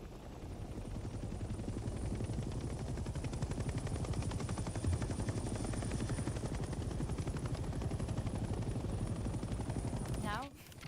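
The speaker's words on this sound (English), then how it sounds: "The helicopter will now take off automatically and remain in a hover state." A helicopter hovers in place in Hell Let Loose: Vietnam, its rotor producing a continuous, loud, rapid chopping drone that cuts off abruptly near the end.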